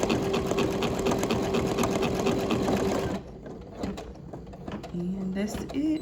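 An embroidery sewing machine stitches a scalloped monogram appliqué on a shirt in an 8x10 hoop, giving a loud, steady rapid whir and needle chatter that stops abruptly partway through, leaving quieter clicks and mechanical repositioning noises.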